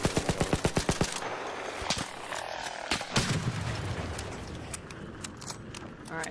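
A rapid burst of automatic gunfire in ARC Raiders opens with about nine sharp evenly spaced shots, followed by a few scattered louder cracks and a reload rattle over a quieter background.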